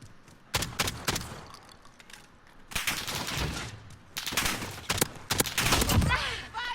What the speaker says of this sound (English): it is shooting out slugs